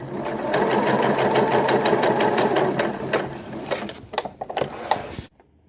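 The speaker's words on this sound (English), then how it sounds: "I'm just going to sew straight line of stitching with the tension on 8" Sewing machine running a straight line of stitching with the thread tension set high at 8 and stitch length 4, a steady close whirring hum for about five seconds before it slows, thumps and stops abruptly.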